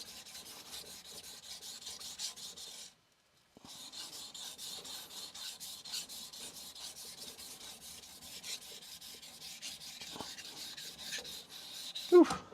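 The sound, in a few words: polishing a single bevel deba knife on Chosera 400 whetstone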